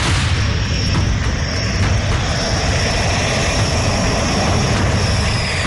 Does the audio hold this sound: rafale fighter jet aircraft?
yes